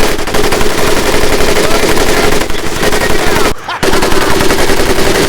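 Sustained automatic gunfire from a machine gun in the video game Medal of Honor: Pacific Assault, loud dense rattling bursts running nearly continuously with a brief pause near the end.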